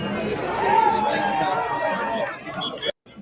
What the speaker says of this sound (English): you hear the defense cheering